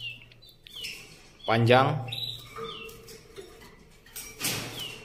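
A songbird offered for sale, an F1-size bird, chirps in its cage in short bright calls and a longer trilling burst, close by, with someone talking over it.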